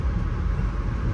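Interior of VIA Rail passenger train 693 running from Winnipeg to Churchill, Manitoba, a low, steady rumble of the moving train with faint rail clicks.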